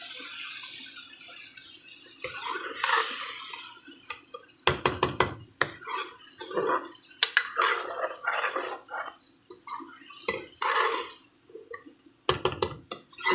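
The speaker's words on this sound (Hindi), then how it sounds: "अब इसको अच्छे तरीके से मिक्स करेंगे सारे मसालों को।" Chicken karahi masala is stirred in a pan after a splash of water, with a spoon scraping and clinking against metal in repeated bursts over a wet, sizzling background, close and fairly loud.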